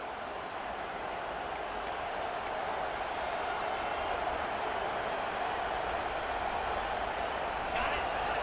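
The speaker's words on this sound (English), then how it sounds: "listen to this crowd coming through" Stadium crowd roaring in an American football video game, Oakland vs Atlanta, a broad, continuous wash of cheering at steady loudness with no let-up, heard alone.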